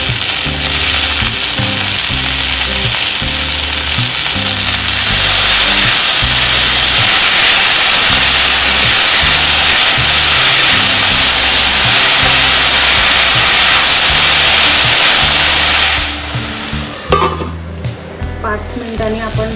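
Chopped drumstick (moringa) leaves hit hot oil in a pan, setting off a loud, steady sizzle that swells midway, holds strong, then drops to quieter crackles near the end, with faint background music throughout.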